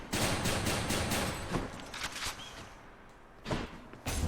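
Weapon fire from a shotgun in the video game Hades, a dense stream of blasts and impacts through the first second and a half, then scattered hits and another burst near the end, with no talk.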